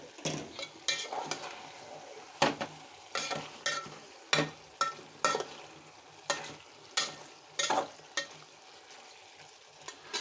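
Curry being stirred in a pan with a spoon, a series of repeated scraping strokes at a fairly regular rhythm over a faint sizzle, close but quiet.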